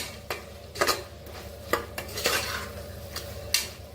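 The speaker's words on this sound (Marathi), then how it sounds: "आता छान मिक्स करून घेऊया. बघा, छान असा मसाला भाजून घ्यायचा." Masala roasting in a pan with coriander powder for masala rice, a spoon scraping and knocking against the metal in irregular strokes over a faint sizzle, close and fairly loud with no talking.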